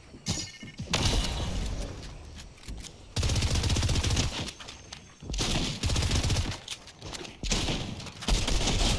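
Rapid automatic gunfire from a Fortnite match comes in loud sustained bursts separated by short gaps, with thuds and shattering impacts mixed in among the shots.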